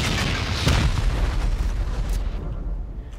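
Rocket blasts hit a base wall in a video game, a dense rumbling boom with a sharper hit near the start that rolls on and fades out by the end.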